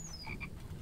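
A frog in the survival video game Infected gives a couple of quick, faint croaks over a low background hum.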